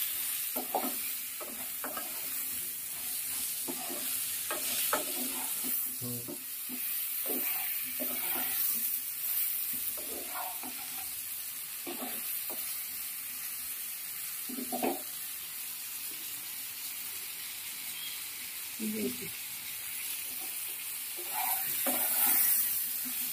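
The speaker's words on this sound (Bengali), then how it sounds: "ভালো করে নেড়ে চেড়ে দেবো, দিয়ে একটু সবজিগুলো সব কিছু একসঙ্গে ভেজে নেবো" Potato, eggplant and ridge gourd fry with salt in a pan over medium gas, a soft continuous sizzle beneath intermittent scraping and stirring knocks, moderately close and fairly even in level.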